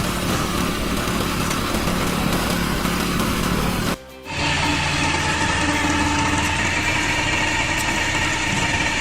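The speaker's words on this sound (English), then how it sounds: "They turned an old uni system into a firewood processor" A converted old Unimog-style engine drives a firewood processor at a worksite, running as a steady loud idling drone that cuts out briefly for a split second before resuming at the same level.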